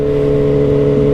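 A 2022 BMW S 1000 RR sport motorcycle with a full aftermarket exhaust holds a steady, loud, close drone with strong low harmonics, no talking over it.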